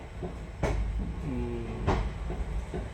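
Steady low rumble of an Indian special passenger train heard from inside a carriage, with periodic clanks and rattles of the wheels and a brief tonal whine midway.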